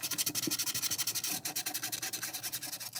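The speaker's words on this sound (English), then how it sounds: "flip it on the other side and sand each blade as well as the inner housing" Hand sanding of an aluminum boat propeller's blades, a rapid rhythmic back-and-forth scratching of abrasive on metal, close and steady with even repeated strokes.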